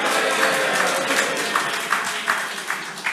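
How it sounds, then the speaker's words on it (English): A conference audience cheers and claps together, a continuous wash of crowd noise with scattered claps that slowly fades over a few seconds. "It's a respectable cheer."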